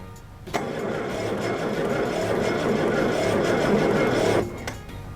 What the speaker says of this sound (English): Now that sounds like shit, but it actually cranks.